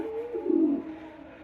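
A single pigeon coos nearby at a pigeon farm, one soft, throaty rolling call that swells in the middle and fades, alone and fairly quiet.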